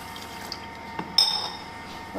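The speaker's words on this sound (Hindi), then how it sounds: "1 कटोरी चीनी में मैं 1 ग्लास पानी डालूंगी।" Water pours into sugar in a pan for rasgulla syrup, a gurgling, splashy flow, close and fairly loud, with a light clink partway through.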